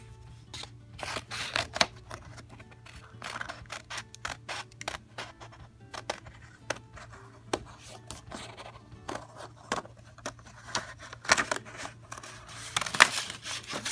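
Scissors snip through folded paper for a craft project, a long run of sharp, close cuts in an uneven rhythm, some quick and clustered, others spaced apart, over a low steady hum.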